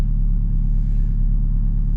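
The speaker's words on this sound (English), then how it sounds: "if we can get away from here and just let the car stretch its legs a little" A Ford Focus RS Mk1 pulls away from a motorway toll booth, its engine giving a deep, steady low rumble heard from inside the car, close and constant.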